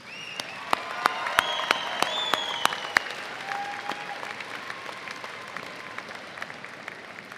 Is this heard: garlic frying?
no